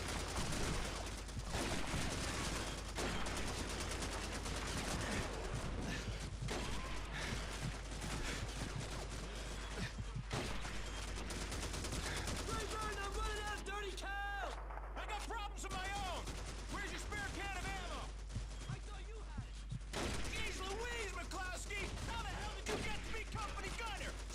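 Gunfire from the World War II shooter Call of Duty 2 in a fight through a German-defended area, with rapid bursts and repeated shots throughout, and someone talking over the shooting.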